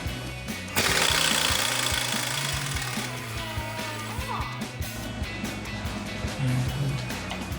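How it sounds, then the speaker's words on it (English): A pneumatic impact gun with a 13/16 socket works a strut nut loose during a Roush Stage 2 suspension install on a 2005-2010 Mustang GT, giving a loud, continuous rattling hammer after a brief quiet start, with faint tonal whine in the background. "we're gonna put it on our impact gun just to make it a little bit more easy to get off"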